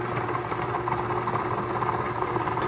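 A stand mixer whirs at medium-high speed while creaming butter and sugar for cupcakes, giving a steady close motor hum with a light rhythmic beater clatter throughout.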